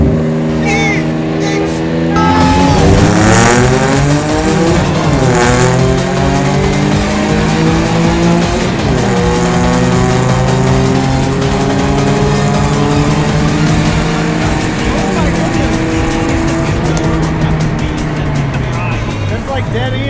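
Suzuki Alto Works RSX kei car street racing an NB Mazda Miata, a loud in-cabin engine note climbing through the revs with gear changes, heavy road and wind roar, and people talking over it.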